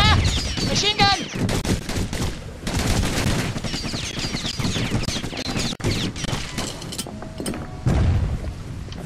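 Video game machine gun fire, dense rapid bursts of automatic shots layered with booms and mechanical clatter, loud and continuous with a voice shouting over it.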